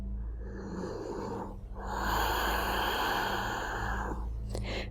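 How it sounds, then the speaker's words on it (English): Slow ujjayi yoga breathing during a medical yoga session for lung disease: a long, rushing breath with a raspy, ocean-like throat hiss, one breath swelling into the next, close and steady with no talking. "Ujjayi breathing."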